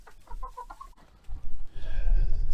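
Chickens cluck in a cold poultry yard where a rooster with frostbitten wattles is kept. A few short close clucks come first, then louder, rougher farmyard noise rises and continues to the end.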